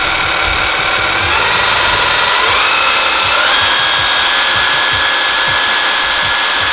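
A Makita HM0871C demolition hammer runs at its highest speed, producing a loud, continuous high-pitched whir with rapid, even pulsing throughout.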